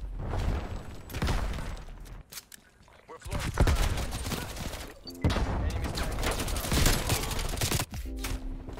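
XM4 assault rifle fire in the video game Call of Duty: Cold War comes in dense, loud bursts of rapid automatic shots with short breaks between volleys, while a player's voice talks over the action.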